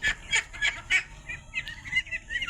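Ducks kept for sale give a series of short, honking quacks, repeated in quick bursts at moderate distance with no talking.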